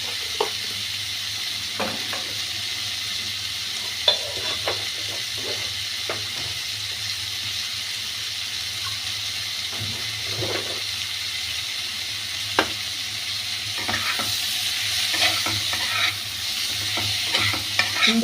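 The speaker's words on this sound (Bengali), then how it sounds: "সুন্দর করে একদম কষিয়ে নিলাম" Prawns and watermelon cooking in a pan with Kashmiri chilli powder and green chillies, a steady loud sizzle and hiss broken by occasional scraping stirs, with no speech over the frying.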